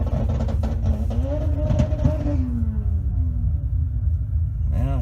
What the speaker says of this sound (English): Now, a couple more cars just did a burnout.